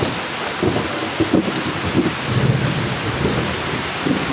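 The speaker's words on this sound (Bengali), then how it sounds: "মেঘের গর্জন শুরু হয়ে গেছে এদিকে" Heavy rain pours down steadily with low rumbles of thunder rolling underneath, growing heavier toward the middle, while gusts buffet the microphone; no one speaks.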